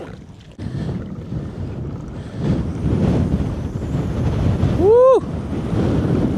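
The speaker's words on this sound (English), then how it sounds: "The wind picked up." Wind gusting across Lake Silverwood during kayak fishing, a steady broadband rush buffeting the microphone throughout, with water lapping and a person whooping briefly near the end.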